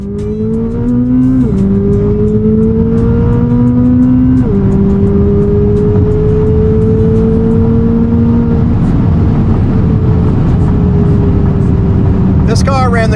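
A 2025 Chevrolet Corvette ZR1 flat-plane crank V8 drones loudly up close, its pitch climbing and then dropping at each gear shift, with a final sharp burst at the end.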